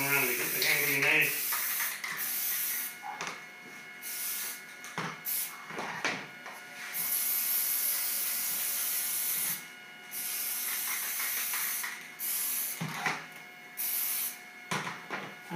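Short bursts of spray paint hiss as a coating goes onto Dalek hemispheres, with repeated sprays separated by brief pauses and some handling noise between them.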